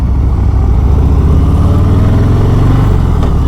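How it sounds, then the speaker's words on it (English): A 2022 Harley-Davidson Heritage Classic with a 114 cubic inch engine while riding. Its loud, steady low engine drone is mixed with wind rush, and no voice is heard. "I do feel like this bike could be a little bit more powerful for having a 114 cubic inch engine"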